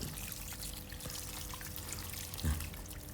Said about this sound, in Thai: มาแล้วทีนี้เราก็เอามาฉีดน้ำล้างครับ